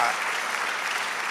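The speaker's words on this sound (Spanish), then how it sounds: "Dale aplauso al Señor, aleluya." A church congregation bursts into applause during a worship service, a dense, steady wash of many hands clapping together at close range, with no pause.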